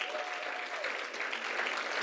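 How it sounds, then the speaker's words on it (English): An awards-show crowd claps steadily through a short stretch of broad, even applause. "Give yourselves a round of applause."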